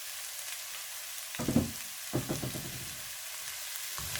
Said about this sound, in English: Stir fry it only for 1 or 2 minutes, not more than that.